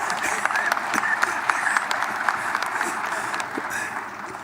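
Audience at a local government election results event applauding: moderate, steady clapping from a modest crowd with some voices mixed in, continuing evenly and tapering slightly at the end.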